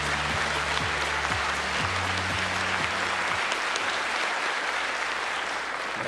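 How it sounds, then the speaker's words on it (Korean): Dense, steady applause from a seated audience fills a formal government policy presentation, continuous and fairly loud throughout, with a faint low tone underneath. "큰 박수 부탁드립니다"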